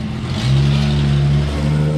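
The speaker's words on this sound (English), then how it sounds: "Now let's hear the car come back." A car engine hums steadily close by, a low sustained drone with a slight rise in pitch partway through, with no one talking.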